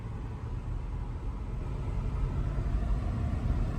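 A supercharged Range Rover engine runs with a low, steady rumble that holds at a constant level throughout, with no voices.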